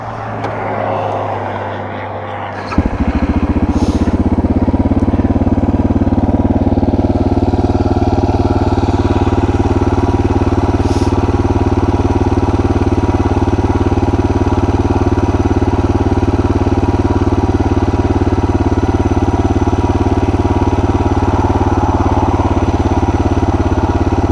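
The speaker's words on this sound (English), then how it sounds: "Let's see what it's like revving now." Suzuki DR650 motorcycle engine with modified exhaust and carburetor, idling low, then catching at about three seconds into a loud, steady running drone held close for the rest of the clip.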